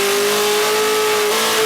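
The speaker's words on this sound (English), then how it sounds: "This is my first Big Daddy burnout." A car engine revs hard and steadily during a burnout, loud and close with a sustained droning tone that holds level throughout.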